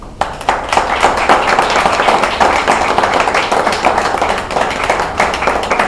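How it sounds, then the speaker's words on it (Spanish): A church congregation claps loudly during a sermon on the Resurrection, with thick, continuous applause from many hands filling the space close up from start to finish. "Vamos a darle un aplauso al Señor"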